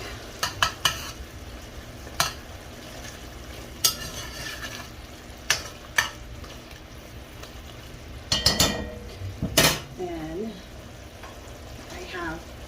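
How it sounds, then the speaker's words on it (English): A spoon scrapes and clinks against a pot while tomato paste is stirred into sizzling beef and potatoes, giving sharp scattered knocks over a low steady frying hiss. "I'm just gonna add in about a tablespoon of tomato paste. And we'll stir that together really quick"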